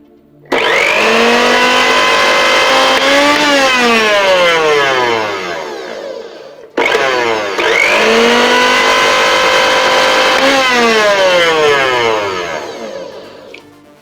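A repaired National kitchen blender switches on and runs for about six seconds, motor whining up in pitch and then winding down, then starts again for a second similar run of about seven seconds, loud and close with no talking.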